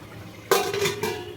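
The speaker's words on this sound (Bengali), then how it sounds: "আমি ঢাকাটা দিয়ে ঢেকে দিলাম" A lid set down over a cooking pot of nearly boiled potatoes and paneer, giving a sharp metallic clatter followed by a second lighter clink, close and clear with no talking.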